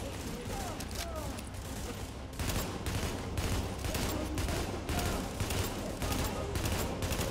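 Gunfire rattles through a shooter match in The Division, with dense, rapid bursts and repeated shots over a loud, continuous game soundscape, and a player's voice can be heard at times.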